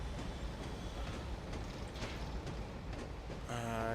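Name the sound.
Class 37 train running on Mardonshire railway layout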